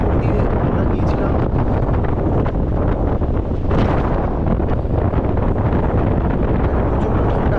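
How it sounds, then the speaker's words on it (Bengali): Strong, cold wind buffets the microphone on the Great Ocean Road coast by the Twelve Apostles, a loud, continuous roaring rumble with gusty surges throughout. "প্রচণ্ড ঠান্ডা হাওয়া দিচ্ছে"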